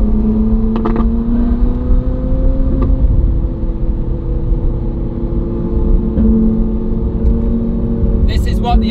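A Ferrari on a long-distance road rally cruising past a dam in Wales's Elan Valley, a steady loud engine drone with road rumble from inside the car, a few faint clicks and a short high chime near the end.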